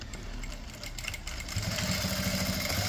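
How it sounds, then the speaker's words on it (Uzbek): A Jack A2C sewing machine stitches with a close, rhythmic motor whir that starts softer and grows louder and steadier after the first second and a half. "Sifati zo'r tikuv mashinkasi."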